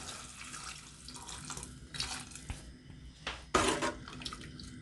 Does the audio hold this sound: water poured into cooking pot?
yes